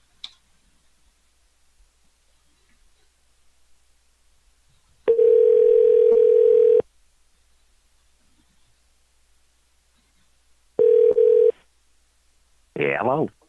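A telephone dial tone comes in two steady bursts on a line while a test call is placed, separated by quiet, followed by a short warbling ring-like sound near the end.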